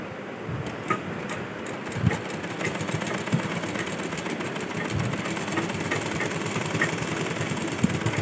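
Sewing machine stitching ghagra fabric, a close, steady mechanical whir with a fast even rhythm running throughout.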